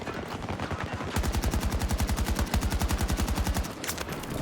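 Rapid automatic gunfire from a weapon with heavy recoil in the shooter game Battlefield 2042, a steady close burst of evenly spaced shots lasting about two and a half seconds after a brief lead-in, then a short pause and a faint final crack.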